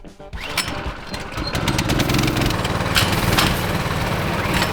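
A small engine buzzes and revs steadily, loud and rough, with a high whiny drone like a go-kart motor running nearby.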